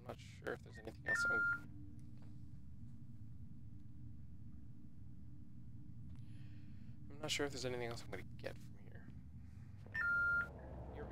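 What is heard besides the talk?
phone beeping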